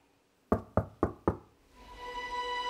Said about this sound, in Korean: 노크 소리가 들렸어요.